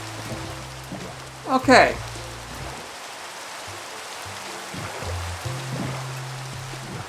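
Steady broadband rain falling in the Minecraft video game, a continuous hiss throughout with a brief louder splash-like burst near the start and a person speaking a short word over it.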